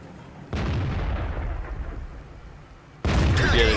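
Tank cannon shots in World of Tanks ring out as two heavy, booming blasts, each followed by a long rumbling decay, loud and close, with no voices over them.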